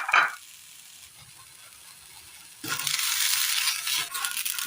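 Sesame seeds and grated coconut hit a hot pan, a faint crackle giving way after a quiet stretch to a loud, steady sizzle.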